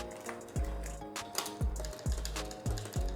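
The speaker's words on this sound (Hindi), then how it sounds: "ये प्रॉपर फुली मैकेनिकल कीबोर्ड है एंड प्रेस करने पर ऐसी साउंड आती है" Keys pressed one at a time on a Cosmic Byte fully mechanical keyboard give about six crisp, fairly quiet clacks at an uneven, unhurried pace, with no talking.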